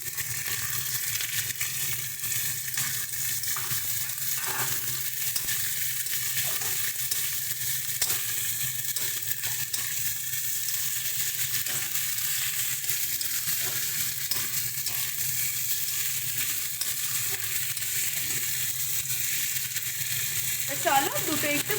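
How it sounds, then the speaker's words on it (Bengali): Green beans and potato pieces fry together in a pan for a vegetarian dish, producing a continuous, moderately loud sizzle with occasional stirring clicks and scrapes throughout. "চলো দুটো একটু ভালো মতন করে ভাজা ভাজা হোক।"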